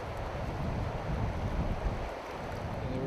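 Wind blowing steadily over a New Zealand river where fly fishing is under way, a continuous broadband rush with buffeting gusts on the microphone and no voices.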